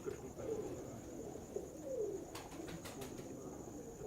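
Pigeons coo softly in a quiet, faint scene, a few gentle rolling calls spread over a few seconds with light chirps and background hiss.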